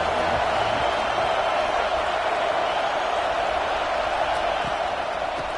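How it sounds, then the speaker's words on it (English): Stadium crowd at a football game roaring continuously, a dense, loud, unbroken wall of cheering with no pauses. "This crowd bringing an ear-splitting welcome to their visitors."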